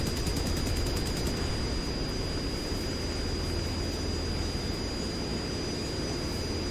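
Aircraft in War Thunder, a loud, continuous engine roar close up with a high whine, and a brief rapid burst of gunfire at the start.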